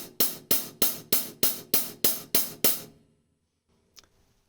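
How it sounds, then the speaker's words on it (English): Hi-hat cymbals struck with the shoulder of a drumstick, nine even, loud hits with a thicker, fuller wash than tip strokes, close up, then a pause and one faint tap. "So here's the sound of the shoulder of the stick on the cymbals."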